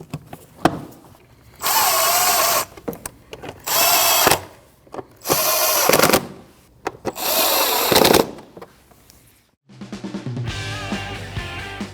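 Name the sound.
power tool tightening bolts on Ford Escape air cleaner cover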